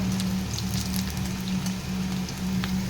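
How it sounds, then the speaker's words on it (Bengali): Pabda fish frying hard in hot oil, spitting and crackling in a dense, continuous rain-like patter with a low steady hum beneath, heard close for the whole stretch. "সেমভাবে আমি এই দুটো মাছও ভাজছি আর মাছগুলো এতটাই ফাটছে"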